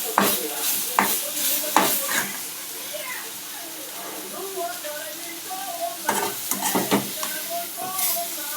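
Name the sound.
food frying and being stirred in a pan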